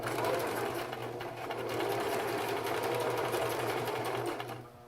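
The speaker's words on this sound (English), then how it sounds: "and then just sew it. And I go back and forth a couple times" A sewing machine stitches elastic onto a scrunchie with a steady, close whirring run that continues for several seconds, then eases off at the end.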